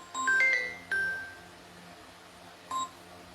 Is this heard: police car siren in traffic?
no